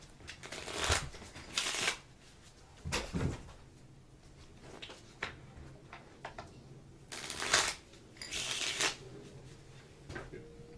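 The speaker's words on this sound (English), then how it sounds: "we're going to have a reshuffle to fill the deck back up" Deck of Ticket to Ride: Europe board game cards being shuffled at a table, repeated riffling bursts at irregular intervals, close and moderately loud, with soft background room noise.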